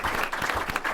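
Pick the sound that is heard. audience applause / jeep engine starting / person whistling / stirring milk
audience applause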